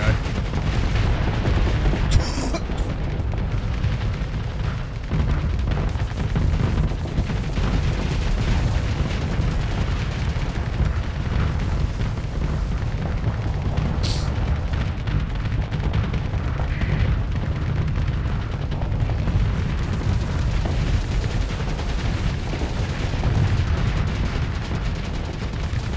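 Starsector ship weapons firing EMP in space combat, a dense and unbroken barrage of booming shots and crackling impacts at high volume for the whole stretch, with a few sharp zaps cutting through.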